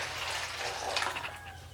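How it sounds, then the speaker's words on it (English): Curds and whey for homemade goat cheese pour into a cheesecloth-lined bowl with a steady liquid splash and gurgle, close and moderately loud for under two seconds. "You can go ahead and pour your curds and whey"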